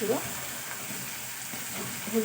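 Deshi magur catfish frying in a pan with turmeric powder being added, a steady soft sizzle and hiss with brief stirring scrapes, and a voice speaking faintly at the start and end.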